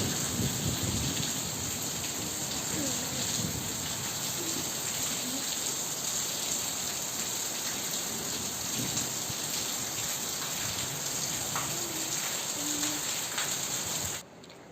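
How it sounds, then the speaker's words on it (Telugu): Heavy rain driven by strong wind around a house, a steady dense hiss of downpour drumming on surfaces with gusty rushing and low rumbles, continuous and loud until it drops away abruptly at the very end. "ఇక్కడ ఎంత పెద్ద గాలితో వర్షం అయితే చాలా ఎక్కువగా వస్తుందండి"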